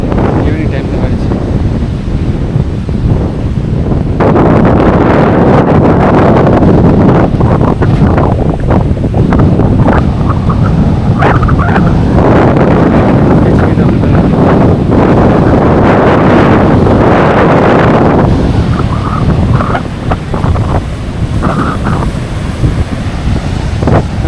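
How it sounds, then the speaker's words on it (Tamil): Strong chilly wind buffets the microphone on the beach at Dhanushkodi at sunset, loud and gusting throughout. Surf noise sits underneath and a person talks over it. "நல்லா சில் காற்று அடிக்கலாம்."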